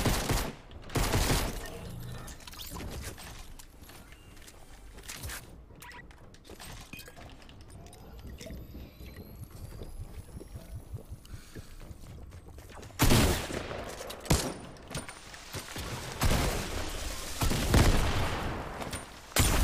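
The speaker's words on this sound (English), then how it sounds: "This new shotgun is too much" Rapid shotgun blasts from a new shotgun in a video game keep ringing out, sometimes several close together, over a dense, busy battle mix with crashes and breaking debris, loud throughout and peaking in the final seconds.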